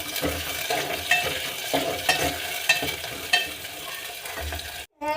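Prawns fry in a pan with tomato, a continuous close sizzle broken by several louder scraping stirs of the spoon against the pan, with a brief dropout near the end and no voices.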